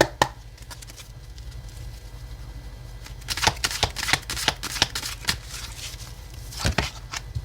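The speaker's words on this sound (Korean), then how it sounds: "먼저 테마 카드를 3장 뽑아보도록 할게요" Tarot cards being shuffled and drawn by hand, a soft rustle at first, then a quick, close-up burst of riffling and slapping card sounds in an irregular rhythm.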